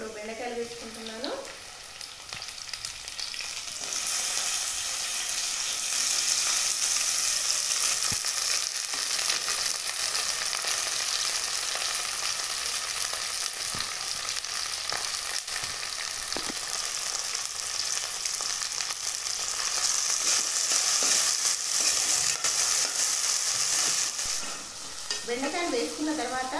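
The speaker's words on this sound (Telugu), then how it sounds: "ఇప్పుడు బెండకాయలు వేసుకుంటున్నాను." Okra added to a pan of browned onions sizzles steadily while being stirred, a loud continuous frying hiss with scraping of the spoon, close up.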